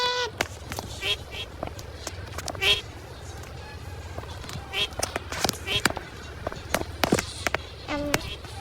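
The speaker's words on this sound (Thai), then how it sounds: "มันเป็น เป็ด มันไม่ใช่นก มันคือเป็ด" A duck quacks repeatedly in a Roblox obby game, with short bursts scattered among game sound effects and footsteps while a voice talks over most of it.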